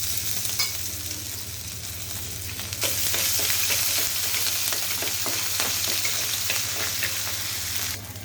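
Whole cardamom, cinnamon, cloves and chilli with ginger sizzle steadily in oil in a pan, with repeated scraping strokes of a spoon stirring them; the frying hiss grows louder partway through and stays loud to the end.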